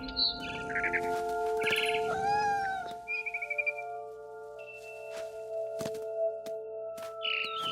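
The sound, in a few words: barn swallow chirping in What Remains of Edith Finch game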